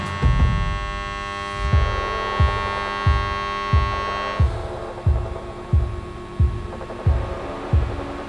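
A steady electrical hum with a regular throbbing pulse, about one beat per second, from a DC TIG welder pulse welding continuously.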